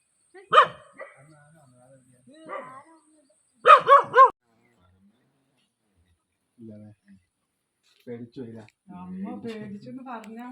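Several short dog barks come in separate bursts, with a pause between them and some talking toward the end.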